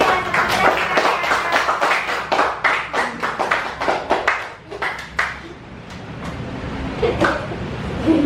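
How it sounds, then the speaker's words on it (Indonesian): A classroom of students clapping for a presenting group, a brisk burst of claps that thins out midway and then resumes more loosely, with faint background voices. "tepuk tangan untuk kelompok 3"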